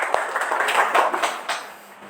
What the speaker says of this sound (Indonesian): Kelompok pertama, kita beri tepuk tangannya dulu ya.